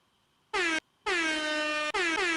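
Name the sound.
air horn sound effect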